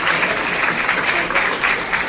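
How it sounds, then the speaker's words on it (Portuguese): Loud, close audience applause at a commented film screening of the Portuguese film Aparição, a thick continuous patter of clapping with slight swells in intensity. "gostava de pedir mais uma salva de palmas"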